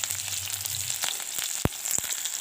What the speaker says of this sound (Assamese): এতিয়া মই এইটো তেলটো গৰম হৈ গ'ল ইয়াতে দি দিম এতিয়া পিঁয়াজ আৰু